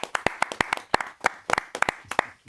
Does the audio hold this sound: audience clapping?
yes